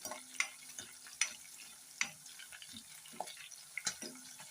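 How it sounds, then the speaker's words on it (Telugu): Green chillies fry in a pan of oil for a tomato curry, with a soft sizzle broken by scattered scrapes and clinks of stirring, close but fairly quiet. "ఇప్పుడు మిర్చి అయితే కొంచెం వేగాయి"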